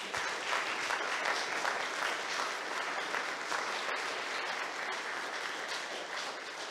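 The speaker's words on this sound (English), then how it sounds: "So how about a round of applause for the rest of our military?" Concert audience at a U.S. Air Force Heartland of America Band performance claps for the military, a continuous, moderately distant roar of many hands with no voices over it.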